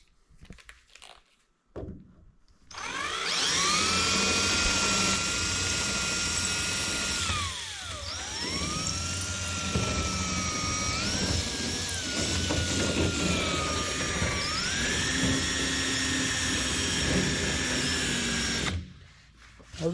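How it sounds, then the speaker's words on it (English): A power drill with a small gold drill bit whines loudly and steadily while drilling metal on a 1932 roadster, its pitch dipping once as it bogs down, then rising again before cutting off. "Those little gold drill bits, they can't hold up for heat."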